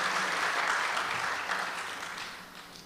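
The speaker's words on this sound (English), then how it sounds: "I ask you to give them a hearty round of applause." An audience at a citizenship conference applauds the technical crew for sound, live streaming and projections: a steady, fairly soft wash of many hands clapping that gradually fades toward the end.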